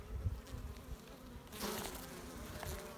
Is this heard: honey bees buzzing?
yes